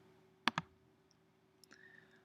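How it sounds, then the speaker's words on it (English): Computer mouse clicks, a quick close pair of sharp clicks followed by another faint click later, with a quiet hum underneath. "So I'm going to click on the T tool."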